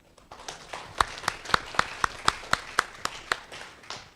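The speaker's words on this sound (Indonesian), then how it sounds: "Kita berikan tepuk tangan untuk Bapak Wisnu Kuncoro SH, Ketua Seni Pernafasan Usik Indonesia." Sparse, rhythmic clapping from a small audience at an Indonesian breathing-art gathering, about a dozen crisp evenly spaced claps in a slow beat, moderately close in a quiet room.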